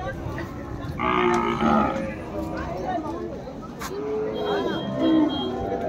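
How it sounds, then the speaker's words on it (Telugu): Cows moo loudly in a busy cattle market shed, with two or three drawn-out calls over a steady crowd murmur and people talking nearby. "ఆవులు చాలా వచ్చినాయి ఈరోజు. మరి ఇవన్నీ కొనేసి ఉన్నాయి, పెద్ద పెద్ద షెడ్లో కూడా ఉన్నాయి."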